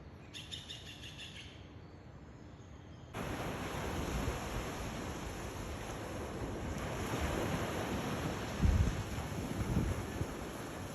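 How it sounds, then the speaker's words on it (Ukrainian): Continuous ocean surf on a Dominican Republic beach rolls and washes steadily, with birds chirping faintly at the outset before the waves grow louder and fuller. "такий шум океану"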